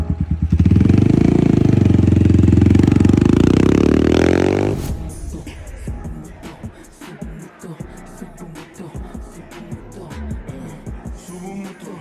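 A 5000cc motorcycle engine roars loud and close for about five seconds, then cuts off abruptly, leaving quieter scattered clatter and scraping.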